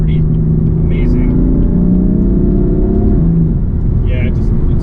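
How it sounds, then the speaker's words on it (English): A tuned Bootmod3 Stage 1 BMW M4 F82 with its S55 engine accelerates, a loud, rising engine drone heard from inside the cabin, steady through the clip, with a voice speaking over it. "I just kind of cracked the throttle a little bit"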